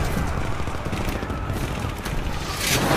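Sustained automatic gunfire in an action film battle, a dense continuous roar of rapid shots with heavy low rumble, loud and close throughout without any talk.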